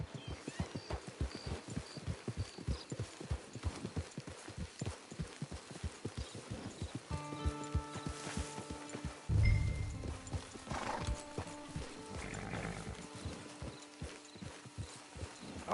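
Steady clip-clop of horse hooves trotting at a quick even rhythm in a video game, then slowing, with a horse's whinny and snort partway through over faint background music.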